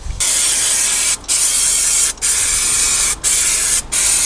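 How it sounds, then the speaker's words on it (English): Aerosol parts cleaner hisses loudly in four long bursts with brief gaps between them, sprayed close up to wipe spilled brake fluid from an AP Racing big brake kit being fitted to an E92 M3. "clean that up with a bit of parts cleaner"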